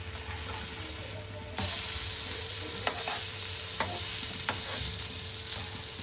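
Rawas fish pan-fries on a griddle with a constant, close crackling sizzle that swells a little partway through, broken by a few sharp scrapes or taps of a turner; no voices.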